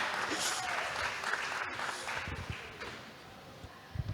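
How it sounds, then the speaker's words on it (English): Applause from an audience at the closing of the 1st African Women in EHS conference, a moderate wash of clapping that fades toward the end, with a few louder thumps near the close. "A round of applause, please make it louder."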